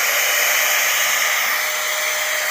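A cheap cordless air duster blower runs steadily at its second speed, a loud, close, continuous high-pitched whoosh of rushing air with no talk over it.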